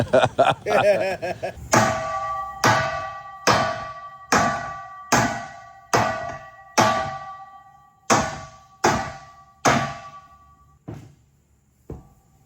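Loud metallic strikes ring out one after another, about a dozen hammer blows on a custom metal boat exhaust pipe at a steady pace with clanging overtones, with a quick rattle of taps at the start.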